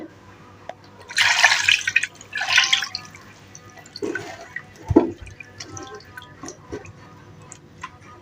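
A little water poured over raw rohu fish in a cooking pot, two short splashy pours in a quiet kitchen followed by faint clinks and small handling noises.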